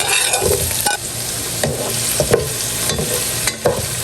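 Onion, garlic and tomato are stirred and sautéed in a pan: a constant close sizzle with repeated spoon scrapes and knocks against the pan, no voices.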